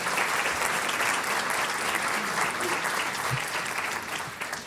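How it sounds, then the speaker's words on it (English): A convention-bureau awards audience in the San Francisco Bay Area claps in sustained, even applause that fills the hall and fades slightly toward the end. "let's give them all a big round of applause."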